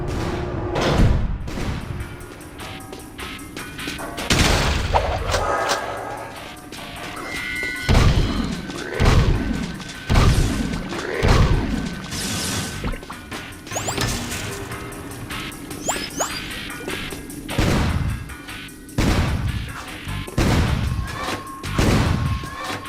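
Gunshots and impacts in the Jak 2 video game, fired while leaving the city safe zone: repeated loud sharp bursts and thuds at irregular intervals over a continuous busy backdrop of game sound, with no talking.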